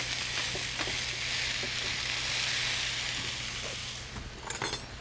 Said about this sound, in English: at this point, I'm going to add in my garlic